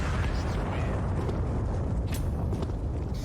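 A bomb blast in CS:GO on the Train map during a pro match, a dense roaring rumble with crackling debris that fills the whole moment at a steady loud level, with a commentator's voice faintly under it.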